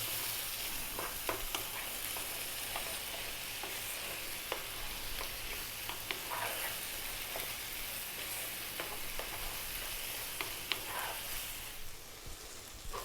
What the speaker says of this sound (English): Okay, so you can see that our tomatoes and onions are cooking down nicely.